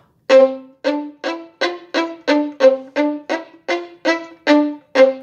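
A violin plays a string of short, separate colle bow strokes, each beginning with a crisp bite and released cleanly with a pop, about a dozen in steady rhythm, close and clear.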